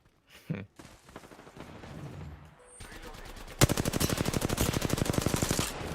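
Automatic gunfire in a shooter video game, a rapid machine-gun burst that starts mid-clip and runs steadily to the end, loud and close, after a stretch of quieter game sounds and a brief voice.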